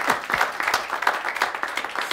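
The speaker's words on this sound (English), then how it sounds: "big round of applause for our guests here" Audience applause greeting guests at the start of an interview event, a steady wash of many hands clapping throughout at moderate level, with no talk over it.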